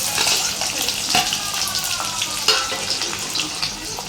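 Chopped onions fry in hot oil in a pan with cumin seeds and a bay leaf for a besan sabji, crackling and sizzling steadily up close with small stirring clatters and no voices.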